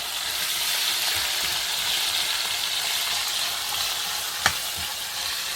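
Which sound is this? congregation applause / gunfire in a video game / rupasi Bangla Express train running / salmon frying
salmon frying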